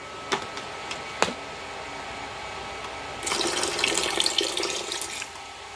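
Two and a half cups of water pour into a pot of rice, a brief rushing splash after a couple of faint clicks, fairly quiet and with no talk.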